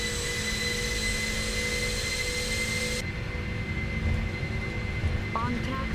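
A PMDG 747-400 freighter's jet engines at takeoff thrust in the Prepar3D flight simulator game, a loud, steady roar with a constant whine that holds for the whole stretch. Light tones sound faintly near the end.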